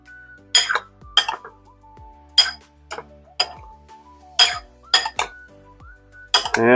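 A utensil clinks repeatedly against a bowl while tofu is tossed with chili sauce and hot sesame oil: sharp, close, irregular knocks and scrapes with short pauses between them and no voices.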